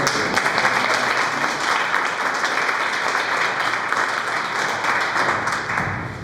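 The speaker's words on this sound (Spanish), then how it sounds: "Un muy fuerte aplauso a Dios" A church congregation at a Sunday sermon gives a loud, sustained round of applause, dense clapping filling the room steadily for several seconds with no talk over it.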